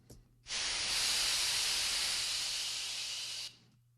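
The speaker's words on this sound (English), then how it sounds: "And I put some more steam in." A single burst of steam hiss made as a sound effect for a game generator: a broad, bright, even hiss that starts abruptly, holds for about three seconds and cuts off cleanly, heard alone and close.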